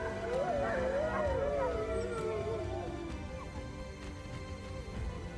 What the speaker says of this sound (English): It communicates through a symphony of howls and rhythmic acoustic signals that establish sovereignty over its geographical domain.